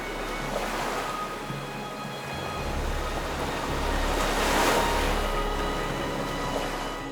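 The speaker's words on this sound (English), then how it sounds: "The rushing water hits the limestone cliffs, creating a scary white foam and wild sounds." Rushing water surging against limestone cliffs and foaming white, a loud broad roar that swells and recedes, with a low rumble underneath and no voices.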